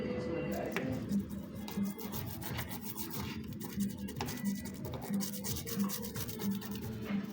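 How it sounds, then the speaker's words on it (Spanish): Brush scrubbing a refrigerator's electronic control board with isopropyl alcohol to clear solder paste, rhythmic close scratchy strokes repeating about twice a second, with someone talking over it. "Hacemos una pequeña limpieza con alcohol isopropílico, toda la soldadura"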